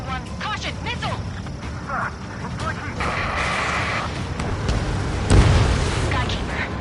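A missile explosion in the combat flight game Ace Combat 7 bursts as a loud boom near the end, over a steady roar of jet engines, with radio voices talking throughout.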